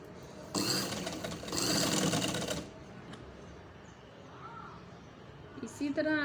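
A sewing machine stitches piping onto the slit edge of an AC blanket, running in two loud steady bursts of whirring stitching with short pauses between them, then falling quiet under faint background noise.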